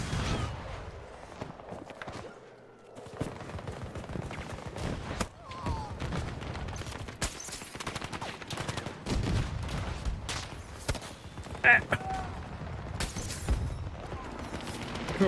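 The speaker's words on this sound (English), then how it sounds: "Please stop shooting me for 2 seconds." Gunfire in Battlefield 2042 on the Haven map: dense bursts of automatic rifle fire and scattered single shots, some close and loud, others distant, with footsteps and mechanical clatter mixed in throughout.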